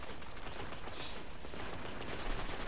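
Dense, continuous automatic gunfire from teammates shooting each other in the game Rift, a rapid unbroken rattle of shots that fills the space, loud and close.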